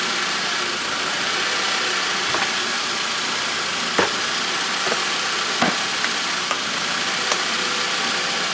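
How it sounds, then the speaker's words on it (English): A warmed-up car engine runs steadily at a broad, rushing idle with a few brief sharper knocks during an oil pressure warning light check; no clear rise and fall of revs stands out. "I don't know if you were able to hear the car revving up."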